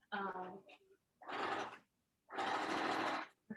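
A sewing machine stitches down upcycled fabric at a fashion workshop, running in three separate bursts of mechanical whirring with short pauses between, close and clear, with no one talking.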